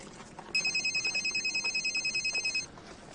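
A telephone rings with an electronic trilling bell in a steady pulsing burst lasting about two seconds, moderately loud against a quiet background with no talk.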